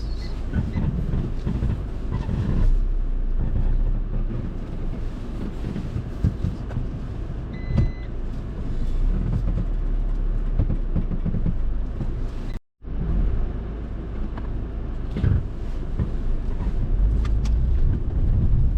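A car driving up a steep hill road between Lava and Rishap, heard from inside as a steady, close, loud engine and road rumble with no talk, broken only by a sudden brief silence near the middle.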